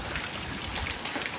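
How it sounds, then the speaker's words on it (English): Rain falls steadily during a big storm, a dense, continuous hiss of drops pattering on surfaces close by, with no voices heard. "Rain has let up a little bit, but man, we got a downpour for about 15 minutes there."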